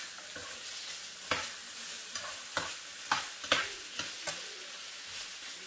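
Potato pieces with salt and pepper fry in a pan, a soft continuous sizzle punctuated by about eight sharp scraping strokes of a spatula stirring them, close and fairly quiet, with no talking.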